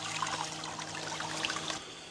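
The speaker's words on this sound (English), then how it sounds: "There's your monsoon shower." Water from a Camplux Nano portable water heater outdoor shower streams and trickles steadily at low level, a soft continuous splashing with no talk.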